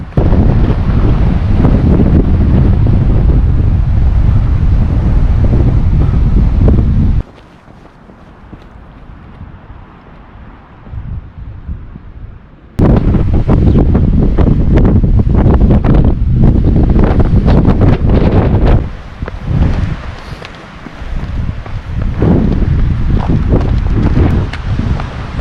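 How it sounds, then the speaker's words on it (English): Strong wind buffeting the microphone on rocky open ground, a loud roaring rush that cuts out to near quiet for several seconds before blasting back in gusts. "the wind is blowing like crazy"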